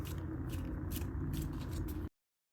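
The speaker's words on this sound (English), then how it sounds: "Otherwise, they just tell me when to stop shuffling." Tarot cards being shuffled by hand give a steady, close papery riffle and rustle with soft repeated flicks, lasting about two seconds before cutting to silence.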